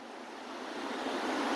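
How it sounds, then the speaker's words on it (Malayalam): Boiled kudampuli tamarind water pours into fish curry masala for an Alappuzha-style fish curry, a steady, rushing stream that gradually swells louder, with no talking. "നമുക്കിതിലേക്ക് കൊടംപുളി തിളപ്പിച്ച വെള്ളം ഒഴിച്ചു കൊടുക്കാം"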